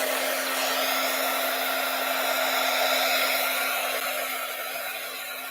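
A hair dryer blows hot air over a mixed-media journal page, a steady loud whirring drone running throughout with no talk.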